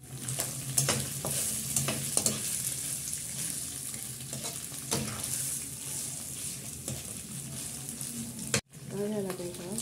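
Spaghetti cooks in a sizzling pan at home for a child's birthday, with a steady frying hiss and scattered stirring clicks and scrapes. A brief drop to silence comes near the end before the sizzle resumes.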